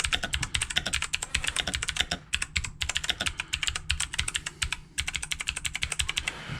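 A 60% mechanical keyboard with blue clicky switches is typed on nearby: rapid, crisp clicking in continuous bursts, broken by two short pauses, with no talking.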